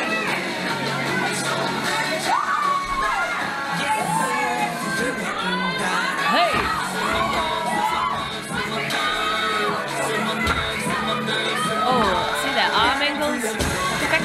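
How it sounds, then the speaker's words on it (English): A concert crowd of K-pop fans at a show roars and screams loudly and without a break. High-pitched shrieks and whoops rise and fall over a dense wall of cheering. "crowd reactions are so good"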